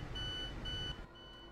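Door unlock beep in a train cab in Train Sim World, a steady electronic beeping tone lasting about a second before cutting out, fairly quiet and alone.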